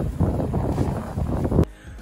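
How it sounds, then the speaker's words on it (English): A DJI Tello drone hovering high overhead in blowing wind, heard as loud, steady gusty wind rumble buffeting the microphone that drops away abruptly near the end. "here's the drone flying in midair as high as it can, just hovering with the wind blowing it"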